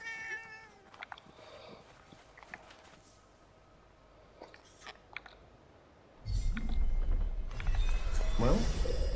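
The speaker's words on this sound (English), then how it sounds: "A cat." A cat meows in the castle town of Avo Alet in the game Forspoken, a few short faint calls over ambient background, followed by a louder low rumbling swell near the end.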